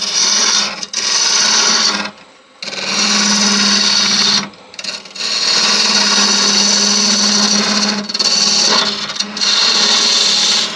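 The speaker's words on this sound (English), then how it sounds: "grab a detail gouge to get in there" A detail gouge cuts a mulberry wood snowman spinning on a lathe, making a loud, close, continuous hissing scrape that stops briefly a few times as the tool lifts away.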